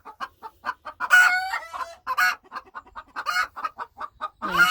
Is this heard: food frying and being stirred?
no